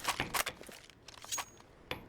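Grenades being juggled and shuffled in Counter-Strike, several light metallic clinks and jangles in quick bursts with quieter gaps between, close and soft.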